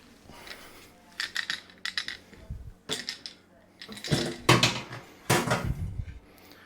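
Lid lifted off a Grainfather G30 brewing system, a series of metallic clanks, scrapes and rattles in irregular bursts, fairly close, with a voice briefly underneath.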